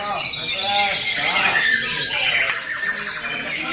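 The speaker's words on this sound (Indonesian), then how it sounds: "pertarungan burung Murai Batu berkualitas lomba. Saling adu tembakan" Rapid, shrill whistles, trills and squawks from white-rumped shama birds singing against each other in a songbird contest, loud and overlapping, with bursts rising and falling throughout.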